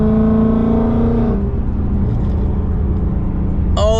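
Ford Mustang Roush RS with a V6 engine, a loud close revving note holding steady then dropping back to a low idle rumble, with a brief higher burst at the end.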